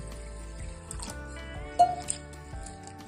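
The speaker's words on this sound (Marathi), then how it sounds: "मी तांदूळ आणि डाळ स्वच्छ धुवून घेते" Rice and toor dal are washed by hand in a bowl of water, giving a brief wet squish and a few soft drips over a steady, faint background hum.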